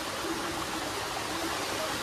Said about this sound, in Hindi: इसी तरह पानी बहते रहता है भाई